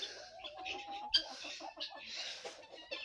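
Fighting-breed hens on a farm cluck and murmur softly in a steady, low-level chatter, a few birds close by with a brief sharper squawk midway.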